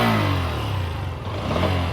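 A Bajaj Pulsar N125 motorcycle engine revving under throttle, a close, throbbing exhaust note that swells and eases over two seconds.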